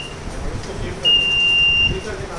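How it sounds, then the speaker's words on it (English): An alarm on a directional/non-directional over-current protection relay trainer system sounds after a fault: a brief beep, then a steady, high-pitched electronic tone held for about a second over constant room noise. "Now the fault has occurred, so the alarm is also beeping."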